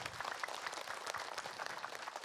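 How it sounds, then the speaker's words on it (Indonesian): Studio audience applause on an Indonesian religious talk show, a steady dense wash of many hands clapping throughout, moderately loud and with no speech over it. "Tepuk tangan dulu dong Bu buat Ustazah Oki."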